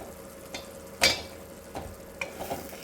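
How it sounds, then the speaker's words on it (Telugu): Boiled eggs dropped into simmering egg masala curry in a pan: soft bubbling sizzle with a few distinct plops and spoon clinks, one sharper knock near the middle, fairly quiet and close. "ఇప్పుడు ఉడకబెట్టిన ఎగ్స్ని కర్రీలో వేద్దాము"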